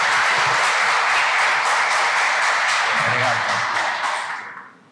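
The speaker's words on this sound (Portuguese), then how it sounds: "Uma salva de palmas para ele." An audience bursts into loud, sustained applause to welcome a speaker at a lecture, many hands clapping in a thick, even roar that tapers away in the final second.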